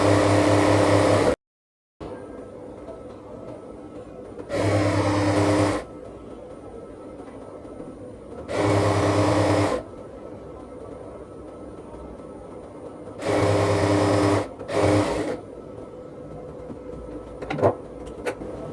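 A sewing machine stitches a thick border along one side of a bell-style fabric sleeve, running in several separate loud mechanical bursts with quiet pauses between them. No one speaks.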